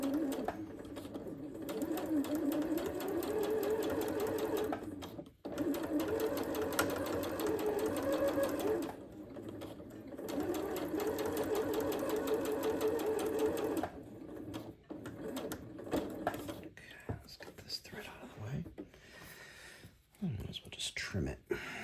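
A sewing machine stitches along the outside edge of a small doll-sized garment piece, a steady mechanical whir that runs in long stretches with brief stops, near and continuous, with soft talk between runs.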